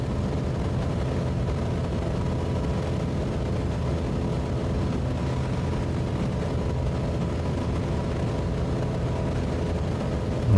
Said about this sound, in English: You can hear the drag on the flaps.